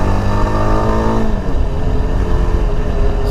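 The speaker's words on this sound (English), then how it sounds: "Let's quickly rev the engine." Yezdi Adventure motorcycle engine revved while stationary, a loud close single-cylinder rise in pitch that drops back toward a throbbing idle.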